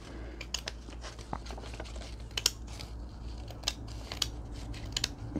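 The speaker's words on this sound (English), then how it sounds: "So I'm just going to go, I'm going to trim." Scissors trim the edge of a paper envelope with lacy window coverings, a series of faint, close snips and crisp paper rustles at an irregular pace over a quiet background.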